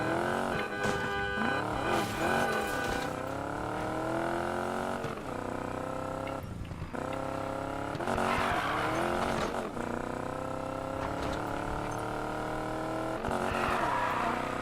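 A car drifting through turns in Need for Speed Payback, its engine revving and wailing in rising and falling sweeps with tire squeal, loud and continuous throughout.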